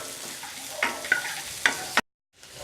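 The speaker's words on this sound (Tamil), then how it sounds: "இப்போது வெங்காயம் வதங்கிட்டு இருக்கையிலேயே ஒரு 7லேருந்து 8 பல்லு பூண்டு" Onions and garlic sauté in a pan for paneer butter masala, with a soft sizzle and several scraping stirs close up before the sound cuts off abruptly.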